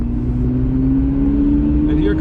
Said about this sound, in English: And here comes the rotary engine into its own.